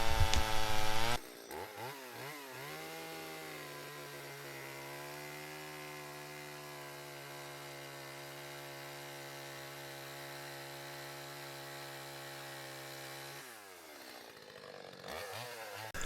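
A chainsaw carving a whimsical wooden sculpture from a tree, the engine droning at a steady pitch for a long stretch between rougher revving bursts at the start and end, loud and close with no talking.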